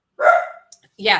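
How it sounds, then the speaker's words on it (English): A dog barks at people walking their dogs past the house: one loud, close bark, a small yip, then another bark, with a person briefly speaking. "I'm sorry that my dog is barking"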